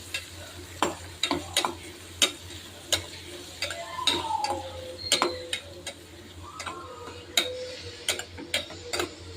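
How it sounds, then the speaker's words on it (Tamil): Garlic, okra, onion and tomato frying in a pan for a pepper curry: a low sizzle beneath regular sharp clicks of a spatula striking the pan, with faint background tones. "பூண்டு, வெண்டைக்காய், வெங்காயம், தக்காளி இதெல்லாம் போட்டு நல்லா ஃப்ரை பண்ணிக்கணும்"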